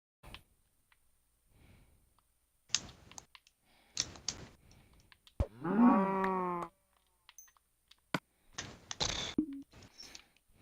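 A single cow in Minecraft moos once, loud and close, between scattered keyboard and mouse clicks with no talking.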